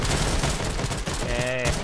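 Rapid gunfire from shotguns and sniper rifles in a Roblox shooter game, with dense overlapping shots in quick bursts, loud and close, followed by a brief ringing tonal effect.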